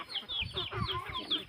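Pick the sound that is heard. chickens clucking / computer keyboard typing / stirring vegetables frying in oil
chickens clucking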